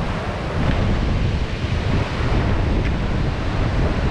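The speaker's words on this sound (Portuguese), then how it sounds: "O mar." Sea waves surge and break against rocks on a rough, foamy coast, a loud continuous wash of surf mixed with gusty wind buffeting close by, with no voices.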